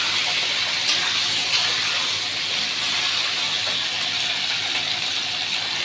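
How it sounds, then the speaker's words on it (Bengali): Young vegetable stalks lightly frying in hot oil, giving a steady, close sizzle and hiss that holds without a break, with no talking. "ডাঁটাগুলো এটা হালকা করে একটু ভেজে নেব।"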